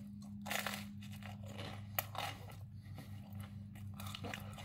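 Crunchy pizza crust is bitten and chewed up close in a steady series of crisp crackles, all over a constant low hum in the background.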